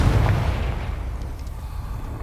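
A Confringo fire-blast spell in Hogwarts Legacy bursts with a loud booming explosion at the start, then a low rumbling decay fading over a couple of seconds.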